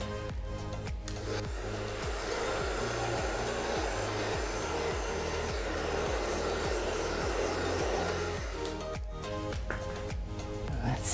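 A hair dryer blasts heat over a Dutch acrylic paint pour, a loud steady whooshing hum close by, cutting off briefly near the end before starting again.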